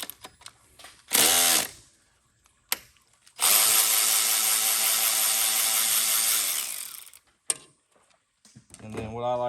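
A power tool removes an 8mm bolt holding the heater core line to the intake manifold on a 6.0 Powerstroke. There is a short burst of whirring and ratcheting, a pause with small clicks, then a long sustained run, close and loud.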